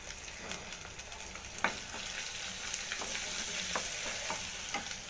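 Ginger garlic paste and turmeric frying in a pan for ivy gourd curry, a faint, steady sizzle punctuated by a few sharp clicks of a spoon stirring, close and quiet, no voices.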